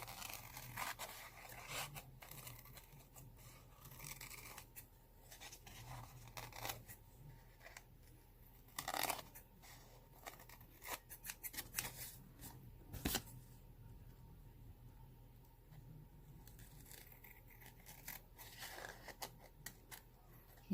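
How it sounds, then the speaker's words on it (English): Scissors snip through file-folder card stock while cutting off pocket tags, a run of faint, uneven crunching cuts at close range with no talking. "I'm going to cut these off."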